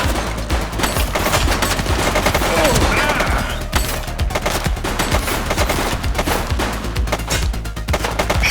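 Rapid gunfire erupts in The Precinct, a police crime video game, with dense bursts of automatic shots and sharp single cracks repeating loudly and close for several seconds, with little talk.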